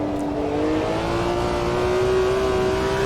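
Race car engine in the sim racing game Automobilista 2 holding a steady high rev with a clear rising tonal whine, loud and continuous with no talk.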